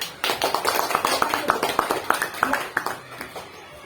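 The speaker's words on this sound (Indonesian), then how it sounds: "Tepuk tangan untuk kelompok 2." A classroom of students applauds a group with rapid, fairly loud hand clapping that continues for a few seconds before tapering off.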